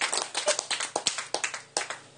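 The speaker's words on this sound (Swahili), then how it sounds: "Pigia Bwana makofi makubwa" Church congregation clapping in a quick, fairly even rhythm, about a dozen sharp claps in a short burst that fade at the end.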